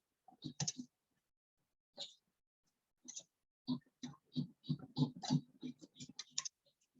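Keys clatter on a computer keyboard in scattered bursts, a few isolated taps followed by a faster dense run of clicks, close and fairly quiet with no talk over it.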